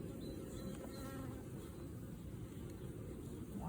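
Dense, continuous buzzing of many honeybees during an inspection of a Langstroth nucleus hive, close and steady, with no talk.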